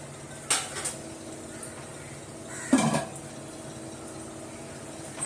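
A lid goes onto a cooking pot of country-chicken biryani, giving two distinct metallic clanks a couple of seconds apart, close by over a low, steady background hum.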